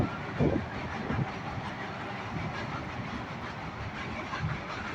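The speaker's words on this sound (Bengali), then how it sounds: "ব্রিজের উপর দিয়ে ট্রেন যায়।" A train crosses a bridge near Dakshineswar temple with a continuous rumbling roar and faint rhythmic clatter. The sound is steady and moderately loud, with no talking.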